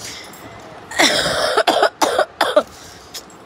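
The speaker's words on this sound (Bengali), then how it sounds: "না আবার কাশির সমস্যা শুরু" A woman coughs in a quick series of harsh bursts, about five close, loud coughs with short gaps, alone with no talk over them.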